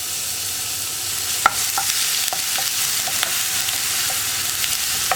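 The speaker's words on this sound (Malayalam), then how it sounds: "വെളിച്ചെണ്ണ ചൂടായി വരുമ്പോൾ നമ്മൾ അരച്ചു വെച്ചിരിക്കുന്ന ഇഞ്ചി ചേർത്ത് കൊടുക്കാം" Grated ginger frying in hot coconut oil for an easy egg curry, a steady broadband sizzle with a few sharp clicks of a spoon scraping the pan, close and moderately loud, no voices.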